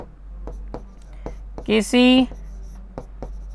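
A pen or chalk taps and scratches out short, regular strokes while working through a Class 10 real-numbers maths problem. The strokes are quiet and close, with a brief spoken word in the middle.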